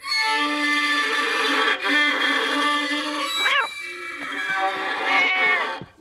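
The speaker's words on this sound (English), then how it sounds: "You said you didn't have a cat." An animated cartoon cat meows several times in long, drawn-out cries, loud and close, with a sustained musical tone under it.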